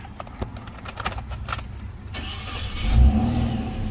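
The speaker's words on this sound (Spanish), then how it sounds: "vemos que enciende con total normalidad" A car is started with the key after its fuel pump relay is replaced: keys jangle and click at first, then the starter cranks briefly and the engine catches and settles into a steady idle close by, with no talking.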